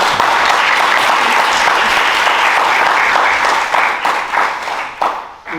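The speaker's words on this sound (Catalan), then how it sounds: "Un gran aplaudimento alla Roseta, all'organizzazione" An audience at a public talk breaks into loud, sustained applause, dense clapping that holds steady and then thins out and fades toward the end.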